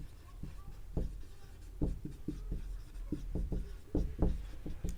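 Pen scratching across paper as an exam answer is written by hand, a close sequence of short irregular strokes and taps repeating steadily throughout, quiet and without speech.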